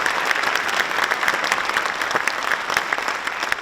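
An audience at an evening talk event claps briskly and continuously, a dense, fairly loud burst of applause throughout the short moment.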